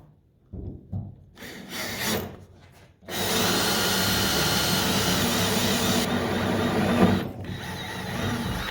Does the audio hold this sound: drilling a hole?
yes